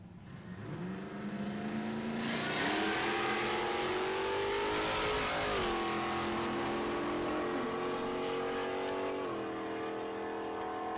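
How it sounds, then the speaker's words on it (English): Drag racing cars, a big Statesman and a ute, launch from the start line at Palmyra Dragway, engines revving loud and rising through gears in a sustained roar that stays strong to the end. "The ute struggled on the start line, spun the tyres."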